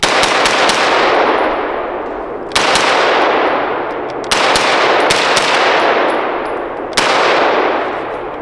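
A GHM9 short barrel rifle fires Winchester white box rounds in several quick rapid-fire strings, each loud, ringing report leaving a long echoing decay, with four bursts across the stretch.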